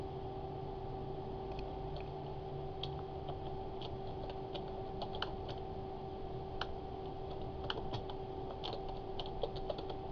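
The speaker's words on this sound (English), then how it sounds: "Now, I'm free to type in and put my own text." Quick, light clicks of computer keys being typed in short irregular bursts, faint and close, over a steady electrical hum.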